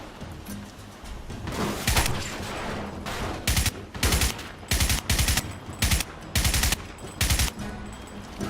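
Bursts of automatic gunfire in a PC shooter game, loud and close, rapid volleys repeating about every half second to a second, with a continuous rumbling combat backdrop.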